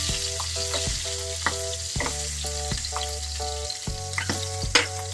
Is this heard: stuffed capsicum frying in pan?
yes